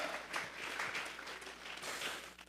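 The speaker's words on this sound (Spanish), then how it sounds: "Vamos a regalarle ofrenda de palmas al Dios de la gloria" Church congregation applauding during a sermon, soft and distant sustained clapping in waves with a faint room hum underneath.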